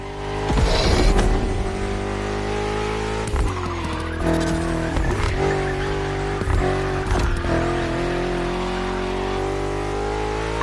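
A BMW M CS sports car drives on open roads with traffic in The Crew Motorfest racing game; a steady, loud engine drone holds throughout, with rising revs, gear changes and some tyre squeal.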